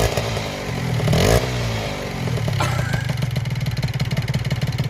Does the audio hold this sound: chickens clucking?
no